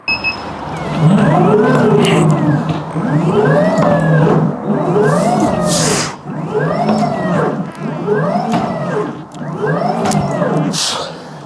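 A motorized strength training machine's motor runs loudly in about six repeated cycles, each one whirring up and back down in pitch, close by and without speech.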